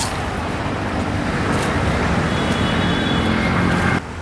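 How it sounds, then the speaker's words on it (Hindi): Steady broadband road traffic from a nearby road, a continuous roar of passing vehicles with no clear individual pass-bys, heard outdoors at the Khooni Darwaza gate in Delhi. "यहाँ पर आसपास रोड गुजर रहा है, तो हो सकता है आपको कुछ गाड़ियों की आवाज़ आती हो।"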